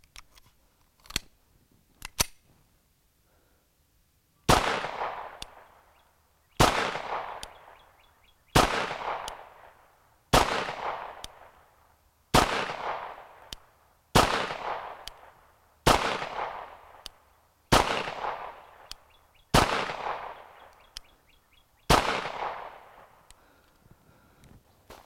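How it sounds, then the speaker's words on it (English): Beretta 92FS Inox pistol firing outdoors: two small pops, then about ten loud, sharp gunshots spaced roughly two seconds apart, each with a fading echo tail, no talking. "It is a fun gun to shoot."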